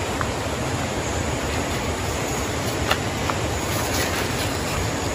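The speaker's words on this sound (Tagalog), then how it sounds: "narinig nyo ba yung tunog ng ilog?" Steady rushing water fills the scene, a constant broadband roar of the Napandong River in Camarines Sur, like nearby rapids, with no voices.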